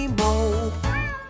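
A cat meows twice in a children's farm song, two drawn-out close meows with a gliding pitch, loud and clear with no singing over them.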